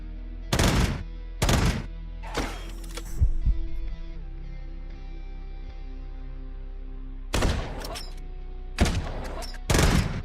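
Gunfire in the video game Quasimorph: a few sharp, loud shots spaced apart, first a cluster of three or four, then a quiet gap with a low hum, then another rapid trio of blasts.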